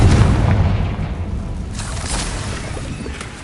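A Confringo spell explosion in the Hogwarts Legacy video game: one loud, deep boom that bursts at once and then rumbles away over a few seconds, with no voices.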